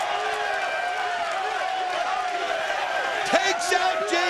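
A wrestling crowd at TNA No Surrender 2008 cheers and roars continuously behind a commentator's voice, a broad sustained swell with a few louder shouts rising near the end.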